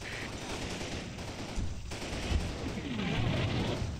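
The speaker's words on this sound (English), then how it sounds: "The continuous gunfire fades, as American gunners are told to conserve ammo" Dense, continuous gunfire crackles and booms in the video game Combat Mission Battle for Normandy, a steady barrage of rapid shots with occasional heavier blasts, fairly loud throughout.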